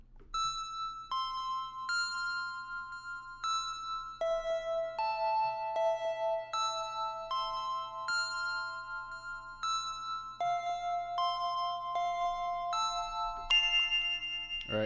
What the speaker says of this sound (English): I like to throw kind of eerie bells in my ambient beats and my dark beats to make them sound a little bit kind of dark and weird